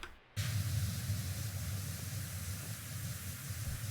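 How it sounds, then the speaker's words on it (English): A pressure washer spraying in PowerWash Simulator 2, a steady, loud hiss of water jet running continuously after a brief quiet start, with no talk. "just power spray all this"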